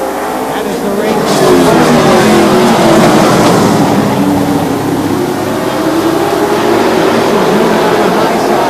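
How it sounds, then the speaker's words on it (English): Race cars on a super short track at an Oktoberfest event roar loudly and continuously, engines droning and shifting pitch as they pass, with an announcer talking over the din throughout. "Corelli down on the inside in the number 8, racing with the number 11 of Steve Johnson."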